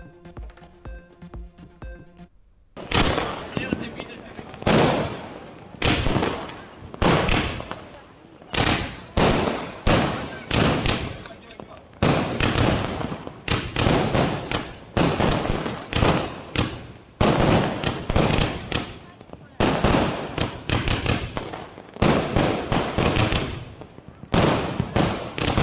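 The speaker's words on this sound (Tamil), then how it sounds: "இரவை வண்ணமயமாக்கி வான வேடிக்கைகள்." Diwali night fireworks and firecrackers across Tamil Nadu burst in loud, dense volleys of sharp cracks and booms, near and nearly continuous after a brief opening strain of music, with short gaps between rapid-fire strings.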